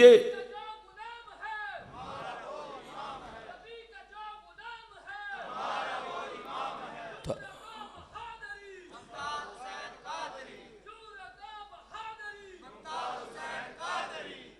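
A crowd at a religious gathering in Qasre Noor, Gujranwala chants slogans in unison. Loud bursts of many voices rise and fall in repeated calls, with short gaps between them.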